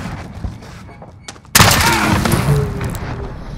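A sudden, loud burst of MP7 submachine gun fire in a video game erupts after a quieter stretch and continues as a sustained, dense rattle, with faint voices in the background.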